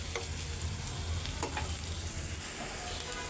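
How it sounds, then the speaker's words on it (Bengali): Onions fry in a pan with a steady, dense sizzle and a few faint stirring scrapes, alongside a low hum and no speech. "পেঁয়াজটা হালকা ভাজা হয়ে গেছে,"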